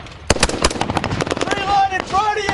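Marines exchange gunfire with Taliban fighters among mud farmhouses in southern Afghanistan, rapid sharp shots in a quick volley, with a narrator's voice over them.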